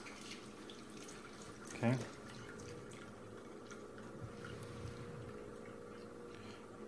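Liquid gel mixture being poured into a container: a faint, close trickle with one brief splashy burst, low under a quiet background hum, with a short spoken word.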